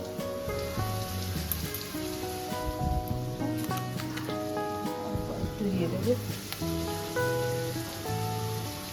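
Nigella seeds and slit green chilli crackle in hot oil, making a busy, rain-like sizzle with scattered pops that runs under a voice talking throughout.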